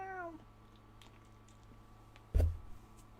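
A person imitates a cat with a single short, rising meow-like cry. It is loud and close against a quiet room background.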